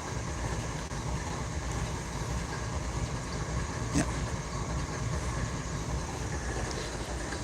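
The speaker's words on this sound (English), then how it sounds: "that train's just sitting there" A train sits idling on the track at trackside in the ghost town of Thurmond, West Virginia, giving a steady low rumble and drone that holds evenly throughout, with one brief sharp click partway through.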